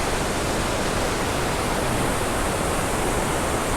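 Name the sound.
Iguazu waterfall, water plunging down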